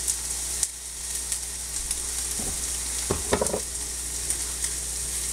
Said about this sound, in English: I'm just gonna stir it around a bit so that the oil kind of gets on it